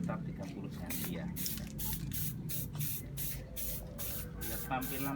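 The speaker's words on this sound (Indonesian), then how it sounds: "Kita pakai akrilik epoksi ya, RRC. Ini kita akan semprot," Acrylic epoxy paint is sprayed in a string of short, hissing bursts during the restoration of an SME BE85, with someone talking underneath.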